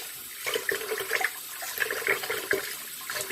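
Tap water runs steadily into a bowl of rice being rinsed until it runs clear, a close splashing stream with small fluctuating gurgles and no talking.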